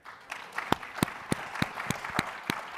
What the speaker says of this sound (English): Let's start off with a round of applause for the SaaStr team here.